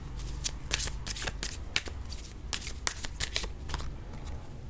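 A deck of tarot cards is shuffled by hand, producing a series of crisp, riffling bursts and soft slaps in an irregular rhythm, close and clear, with no talking.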